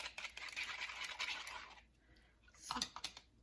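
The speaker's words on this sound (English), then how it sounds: "I like to give them just a little whisk, break the yolk up" Three large eggs whisked briefly in a bowl for pumpkin pie filling, a quick run of close scratchy, clicking strokes for nearly two seconds, then a pause and a few sharper taps.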